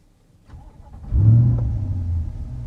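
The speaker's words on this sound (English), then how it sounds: "I'm going to fire it up." A C8 Corvette fitted with an AWE touring exhaust fires up from a warm start: a short starter whir, then a sharp engine flare that settles into a steady, fairly loud idle rumble.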